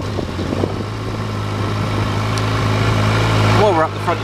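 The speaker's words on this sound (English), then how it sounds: "I'm just going to fire her up for you so you can hear that standard exhaust" A motorcycle engine with a standard exhaust idles steadily with a low, even rumble throughout, while a person talks over it.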